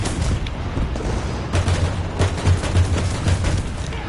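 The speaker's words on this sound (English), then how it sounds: "I hate hearing gunshots." Loud, rapid gunfire in the video game War Thunder crackles in repeated bursts with heavy low thumps, shots clustering close together throughout.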